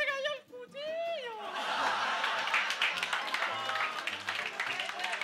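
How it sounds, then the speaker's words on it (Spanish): A studio audience applauds after a group performs a joke on a 1996 variety show, a dense wash of clapping mixed with laughter that follows a brief shouted voice and keeps going steadily. "le damos un aplauso a los muchachos que se prepararon bien"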